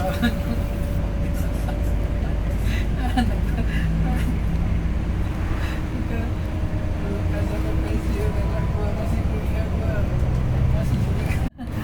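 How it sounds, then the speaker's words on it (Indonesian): A bus with a Scania K360 engine drones steadily and loudly throughout, with road rumble and a constant low roar from inside the moving vehicle in Sumatra. "Kalian bisa dengar sendiri kan betapa mulusnya raungan mesin K360 ini"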